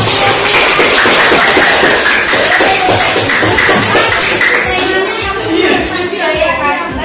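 A classroom group applauds steadily, dense continuous clapping with scattered voices of children mixed in, loud and sustained throughout.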